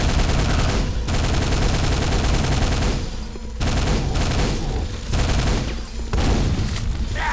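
Dense, continuous weapon fire from grenades and a nail gun in the game Quake, a loud rapid barrage with brief dips between bursts, alone without talk.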